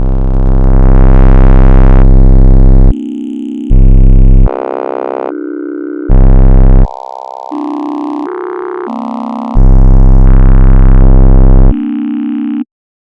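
Loud, harsh synthesized textures from a spectral filter driving heavy distortion change abruptly every second or so, shifting between buzzy harmonic chords and gritty noisy blocks before stopping suddenly.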